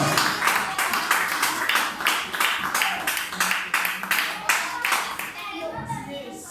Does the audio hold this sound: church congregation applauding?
yes